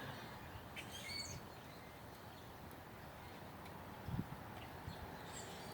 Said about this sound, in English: And there's just all these birds.